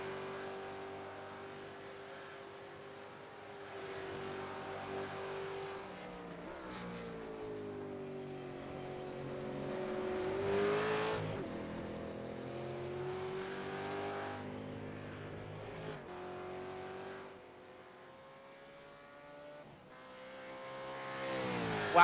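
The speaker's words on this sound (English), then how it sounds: "Wow, 30 V8 Supercars on one track." A pack of thirty V8 Supercars racing in iRacing at Interlagos, rising and falling engine tones layered over one another, droning steadily at moderate loudness with shifting pitch as the cars accelerate.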